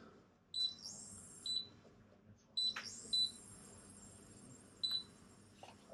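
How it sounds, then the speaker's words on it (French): A handful of short, high electronic beeps from cooktop buttons, some in quick pairs, sound close by and spaced irregularly, with a quiet hum underneath. "on appuie sur les boutons et ça doit faire bip bip logiquement"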